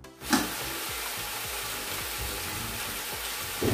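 Chicken pieces frying in a pan for chicken biryani, a steady, close hiss of oil that starts with a sharp burst and holds, with faint scraping stirs underneath.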